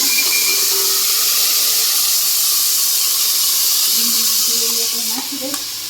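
Loud, steady hissing sizzle as onion gravy goes into a hot mustard-cumin tempering in a pan, close and continuous, fading slightly at the end.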